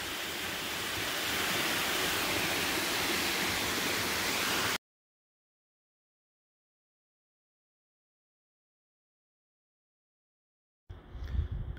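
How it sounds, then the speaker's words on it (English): A waterfall on a nature trail behind Ventana Canyon near Tucson gives a steady, loud rushing roar for about five seconds before cutting to silence, then a short rumble near the end. "we have a really pretty waterfall back here."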